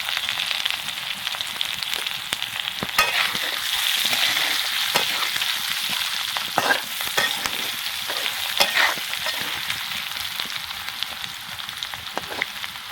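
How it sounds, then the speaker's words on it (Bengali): Potatoes fry in oil with a pinch of turmeric, producing a continuous close sizzle broken by repeated sharp scrapes and taps of stirring. No voices are heard. "আলু ভাজা হয়ে গেছে"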